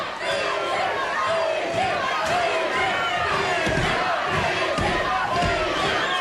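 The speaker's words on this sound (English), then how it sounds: "The fans yelling for Fiji." A roaring arena crowd yells and cheers for Mountain Fiji during a 1986 GLOW women's wrestling lumberjack match in Las Vegas, a dense, loud, continuous wall of voices with scattered shouts and thumps.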